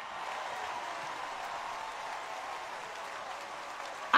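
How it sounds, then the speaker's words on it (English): A church congregation at a deliverance service in London claps hands steadily, a dense, even wash of applause from a large crowd that holds for the whole stretch. "As you clap your hands, walls are falling down"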